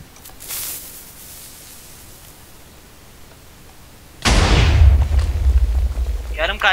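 A Minecraft explosion erupts suddenly as a loud, broad boom with a heavy low rumble that lingers for a couple of seconds, following a quieter stretch of game background sound.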